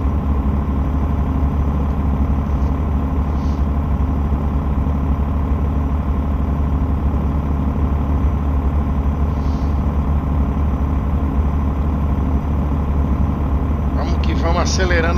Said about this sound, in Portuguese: Vamos que vamos acelerando a mulona aqui